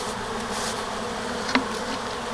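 Honey bees hum in a new hive as they begin building comb, a close, steady, even buzzing drone with one brief faint click partway through.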